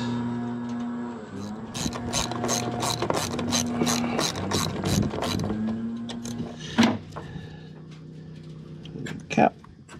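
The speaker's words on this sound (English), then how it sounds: "just tie the nuts up, a couple of stainless nuts and bolts on each side" A hand ratchet clicks in quick, steady runs while stainless steel nuts and bolts are tightened, up close with a humming background and a couple of louder knocks afterward.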